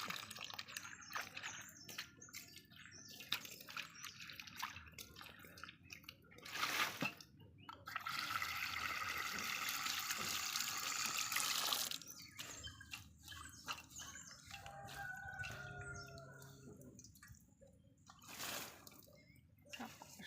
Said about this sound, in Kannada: ಇದನ್ನು ಇವಾಗ ಚೆನ್ನಾಗಿ ತೊಳೆಯುವ ಬನ್ನಿ